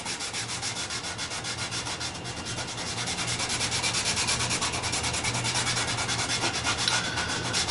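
Leather dye is rubbed into a wooden guitar body by hand in steady, rhythmic back-and-forth strokes, a soft continuous close-up swishing with no voices, growing a little louder partway through.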